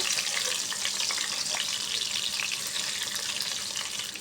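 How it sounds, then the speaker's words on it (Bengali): Chopped onion, chilli and garlic fry in hot oil in a pan, making a dense, continuous sizzle that stays close and even throughout. "গরম হয়ে গেছে, তাই আমি পেঁয়াজ কুচি, মরিচ কুচি এবং রসুন কুচিগুলো দিয়ে দেব।"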